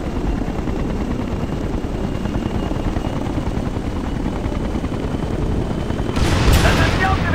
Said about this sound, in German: Feindliche Hubschrauber nähern sich ihrer Position.